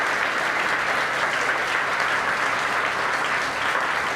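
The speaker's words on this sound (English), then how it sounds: "Let's give a round of applause to Eberhard and Jerry." Audience applause at a church Sunday school session, a steady, dense burst of clapping from a roomful of people lasting several seconds with no talk over it.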